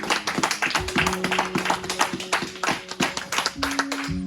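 A church congregation claps in a quick, uneven rhythm, the sharp hand claps crowding together over sustained musical tones that run underneath.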